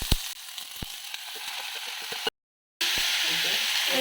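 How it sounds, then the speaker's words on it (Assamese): Tomatoes sizzle and fry with garlic and chili in a pan, a steady close hiss broken by stirring clicks and scrapes, with a brief gap of silence partway through. "এতিয়া বিলাহীখিনি দি দিম আৰু অকণমান এইফালে ভাজি লৈছোঁ"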